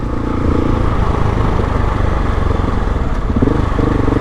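A KTM 690 Enduro R motorcycle engine drones loudly and steadily, rising slightly in pitch toward the end, with no talking.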